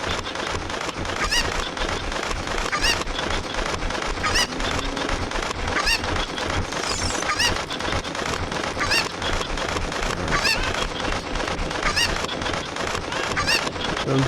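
Cuccos, the chickens of Kakariko Village in the Ocarina of Time video game, give repeated squawks and clucks at a steady rhythm. Sharp sounds punctuate them every second or so over the game's ambient noise, with no talk.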